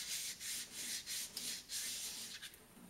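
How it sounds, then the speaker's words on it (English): Sandpaper is rubbed by hand over the surface of a custom nose cone in short back-and-forth strokes, a rhythmic scratchy rasp repeating about eight times, close and fairly quiet, with no talking. "And just begin to gently sand here."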